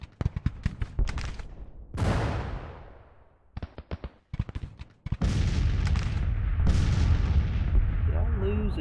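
Artillery guns fire in the Civil War strategy game Grand Tactician, 1863 Confederate campaign: a series of booming shots and sharp reports, some clustered in quick volleys, with rolling rumble between bursts and sustained battle noise toward the end.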